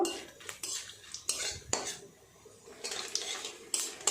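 Metal utensil scraping and clinking against a pan while a tempering of bay leaves, dried red chillies and cumin fries in oil for khichuri. The stirring comes in irregular bursts, close and fairly quiet, over a faint sizzle.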